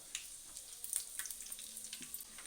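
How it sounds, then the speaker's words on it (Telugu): Fenugreek and cumin seeds sizzle in hot oil while cooking crab curry, a soft steady crackle with scattered small pops close by and no talking. "నూనె వేడెక్కినాక ఒక చెంచడు మెంతులు ఒక చెంచడు జీలకర్ర"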